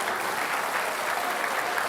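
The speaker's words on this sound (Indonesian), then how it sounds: "Kita kasih tepuk tangan untuk kedua kandidat." Steady applause from an audience at a televised Jakarta gubernatorial election debate, a dense even wash of clapping held for the whole stretch with no voices over it.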